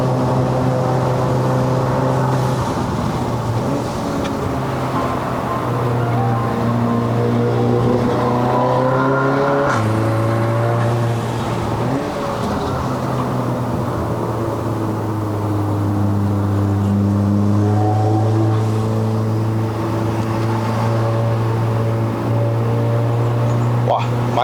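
A Stage 2 tuned MK7 VW Golf R climbs a mountain road in Malaysia. Its engine holds a loud, steady drone that rises and falls as it pulls uphill, heard from inside the car with someone talking over it.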